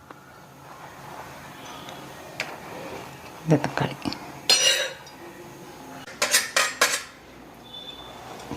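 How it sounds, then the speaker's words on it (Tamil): A kitchen knife slices tomatoes on a cutting board while a quick potato and egg breakfast is being prepared. A few short bursts of chopping and clinking stand out over a quiet background, and a person talks between the cuts. "இப்போ வந்து தக்காளி நறுக்கிக்கிறேன்."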